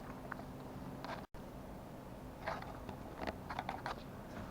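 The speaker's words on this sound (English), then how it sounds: "I'm gonna show you how I dice it up." Quiet, irregular knife taps and crunchy cuts dicing smoked meat on a board, in small clusters with brief pauses, close but soft.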